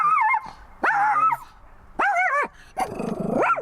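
A dog at a Florida state park gives a series of yelping, whining barks and whimpers, four bursts in quick succession, close and clear.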